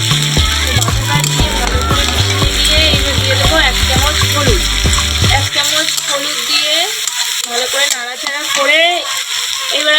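Ginger, garlic and onion paste fries in a pan for a country chicken curry, a steady sizzle running under loud music with a beat and a voice throughout.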